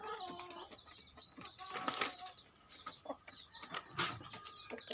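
Kadaknath chickens, including a rooster, make short bursts of clucking and chirping calls close by, with two louder call clusters standing out over a soft outdoor background.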